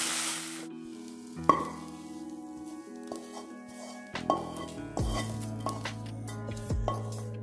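Onions sautéing in a pan for mushroom gravy, a faint sizzle under intermittent clinks and scrapes of a spoon against the metal pan, with low background hum and no talking.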